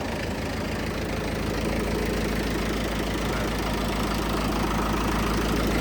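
A 1996 Farmtrac 45 tractor engine idles steadily and close, with a low rhythmic knocking throb that holds unchanged throughout.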